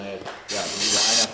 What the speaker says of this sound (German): Gib mir ein bisschen Schleifpapier.